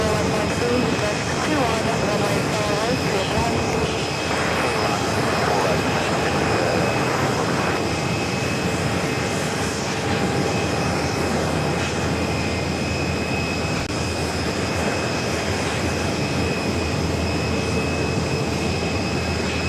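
Airbus A380 airliner taxiing at JFK airport, a steady loud engine whine and rumble with sustained high tones running throughout, voices talking over it.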